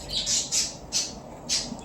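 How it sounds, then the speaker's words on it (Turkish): Birds squawk outside, about four short harsh calls repeating at a steady pace, heard from indoors in a kitchen and fairly close. "Siz de kuşların sesini duyuyorsunuz."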